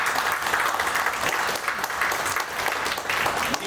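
Loud, sustained applause from an audience at a live demonstration of Kangen water, dense clapping that stays steady from start to finish.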